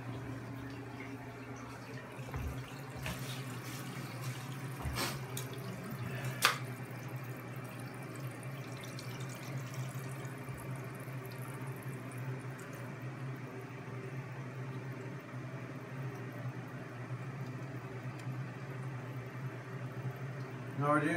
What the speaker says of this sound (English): Now what we're doing is turning on the water, making sure we don't have any leaks from the toilet flange to the bowl itself.